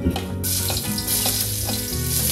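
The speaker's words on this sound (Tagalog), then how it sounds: "pag ako nag-igisa, inuuna ko po ang sibuyas" Onions sauté in a hot pan with a loud, steady sizzle and crackle that holds evenly throughout, heard close with no talking.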